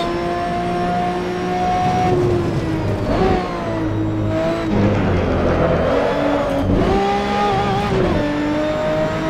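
A 1977 Broadspeed Jaguar XJ12C race car engine in Assetto Corsa whines steadily at high revs, rising and dropping in pitch as it shifts gears, loud and continuous.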